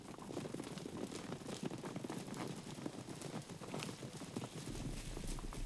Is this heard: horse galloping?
yes